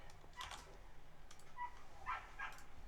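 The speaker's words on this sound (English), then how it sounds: "Woof woof woof, someone's having fun out there" A dog barking outdoors, several faint, distant yips in quick succession against a steady low background hum.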